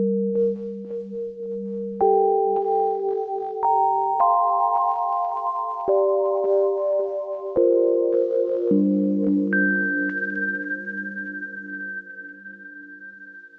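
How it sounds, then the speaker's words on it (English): Clean sine tones played as a slow sequence of sustained notes through a Baby Audio Comeback Kid delay plugin, echoing and overlapping with gentle wavering drift, ending on a single held high note that fades out. "this has a little bit of heat, no magic switch, a little bit of wash, and a good amount of drift"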